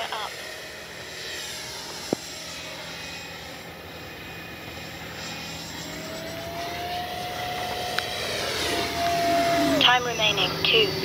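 A Freewing Mirage 2000 RC jet with an 80 mm electric ducted fan and afterburner effect flies overhead, a steady distant whine that sweeps in pitch and swells louder toward the end as it passes closer.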